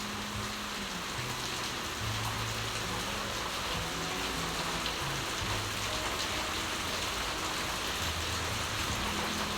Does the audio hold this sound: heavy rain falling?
yes